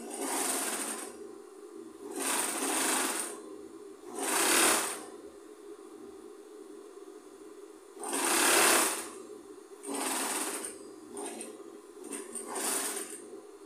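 A sewing machine stitches fabric strips for a rag rug in short repeated bursts of rapid whirring, about six runs separated by brief pauses, close and clear with no talking.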